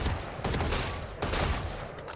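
A weapon fires in quick tapped bursts at targets in Valorant, with several sharp, loud shots in a row over a short stretch and no other sound behind them.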